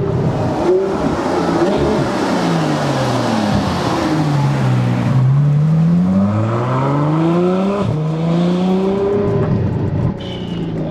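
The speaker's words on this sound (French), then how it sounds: "Cette sonorité du moteur, elle est juste incroyable." A Ferrari F12 Mansory Stallone engine revs loudly and close, its pitch climbing and dropping again and again in a continuous roar with no one talking.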